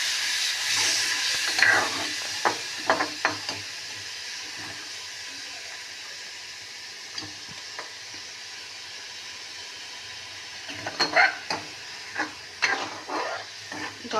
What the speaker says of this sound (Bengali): জলটা দিলাম, মশলাটা কষুক